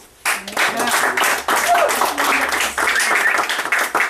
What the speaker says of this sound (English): Let's have a little applause.